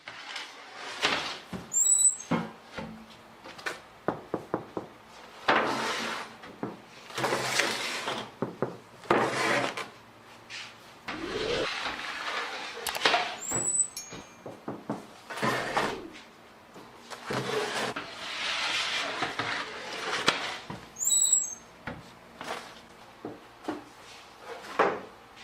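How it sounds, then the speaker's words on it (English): An artisan baker knocks on the base of a baked bread loaf, making repeated hollow taps and handling thumps in an uneven rhythm that continues at moderate loudness throughout. "The baker tests the bread by knocking on its base, a traditional technique to ensure it is perfectly baked, resonating with a hollow sound."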